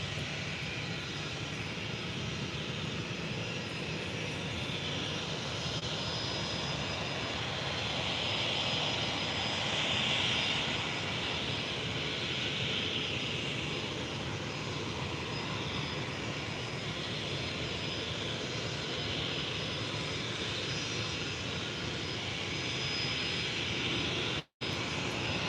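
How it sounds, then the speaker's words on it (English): A Norwegian Boeing 737 MAX 8 jet taxis to the runway at Faro Airport, its engines giving a steady, even whine and roar at moderate distance that holds without a break for the whole stretch. "Also now taxiing to the runway is Norwegian 737 MAX 8 to Copenhagen."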